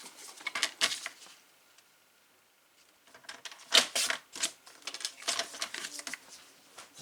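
Paper is cut and trimmed for a hidden-pocket page, heard as close, quiet crisp snips and rustles in two clusters separated by a brief silence.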